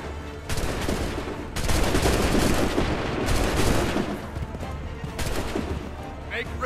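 Musket volleys crack out in a battle in the Assassin's Creed III video game, loud dense bursts of gunfire rolling together several times, with voices shouting commands amid the shooting.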